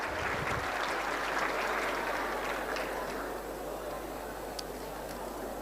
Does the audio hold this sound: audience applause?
yes